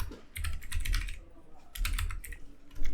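Code being typed on a computer keyboard: two quick bursts of rapid, light key clicks separated by a short pause, close and fairly quiet, with no talking.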